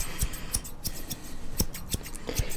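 Barbershop scissors snip in a loose, irregular rhythm of about eight crisp, close-up cuts over a quiet background, each a bright short metallic click.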